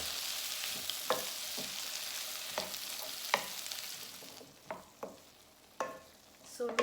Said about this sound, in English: chopped tomatoes, fresh chopped tomatoes, and I will cook them until they become soft.